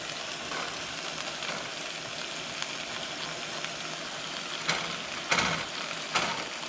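Chicken pieces fry in a crowded skillet of hot oil for a quick supper, giving a steady, even hiss with a few louder crackles and pops near the end.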